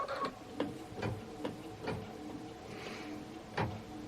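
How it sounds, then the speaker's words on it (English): An embroidery machine stitches a Kimberbell Cup of Cheer design onto fabric, ticking in quiet, regular clicks roughly twice a second, close and alone. "I'll stitch it down and I'll trim around it and be back."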